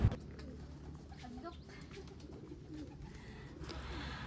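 Low, soft cooing from pigeons let out in the afternoon at a garden in Masbate, Philippines, murmurs steadily in the background, with faint chirps and outdoor ambience around it.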